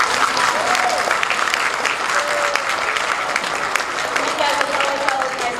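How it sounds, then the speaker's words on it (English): Loud, sustained applause from an audience at a high school and middle school orchestra spring concert, celebrating the cello section, with some voices and cheers mixed into the clapping. "Please give them a round of applause."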